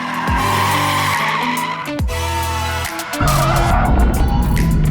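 An RTR Ford Mustang drifts at a drift school, tires squealing loudly as the engine revs rise and fall through repeated shifts, close and aggressive.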